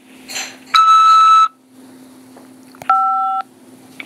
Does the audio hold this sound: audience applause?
no